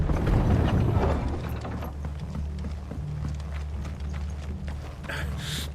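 Rhythmic horse hoof clops in Final Fantasy XVI, steady and mid-distance, over a low droning hum and some mechanical clatter.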